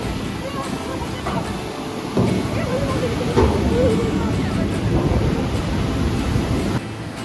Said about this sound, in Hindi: हम इस लोकेशन पर पहुँचे हैं जहाँ हमें आ रही है बहुत तेज पानी की आवाज़।